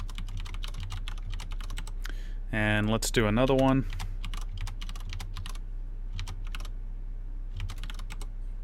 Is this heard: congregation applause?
no